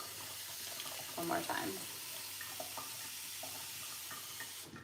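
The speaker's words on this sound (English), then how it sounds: "So I'm just pouring out the water" Water is poured off quinoa being rinsed in a kitchen sink, a continuous splashing, running stream heard close by while a person speaks briefly over it.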